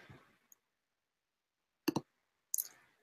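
Sharp computer mouse clicks in a quiet room: a close double click, then another short click burst a moment later, with faint room noise between.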